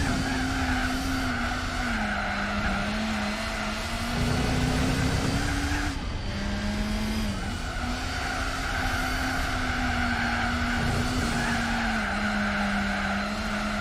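Honda Civic race cars in Gran Turismo 4 skid and squeal their tires continuously over a steady engine roar, with the screech wavering in pitch and no voices.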